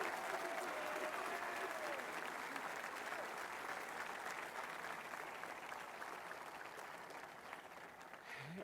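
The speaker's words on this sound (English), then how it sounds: "Let's give a round of applause to the incredible job they did." Crowd applause at an outdoor 250th anniversary observance following a Marine Corps Forces display; sustained, fairly distant clapping from a large audience that slowly tapers, with faint voices mixed in.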